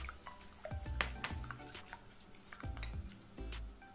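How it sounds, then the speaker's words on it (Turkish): Two eggs are whisked in a bowl with a utensil that clinks and scrapes against the sides in quick, uneven strokes. The sound is close but fairly quiet, with a low hum underneath and no talk. "2 yumurtam var. Hemen onları çırparak işe başlıyorum."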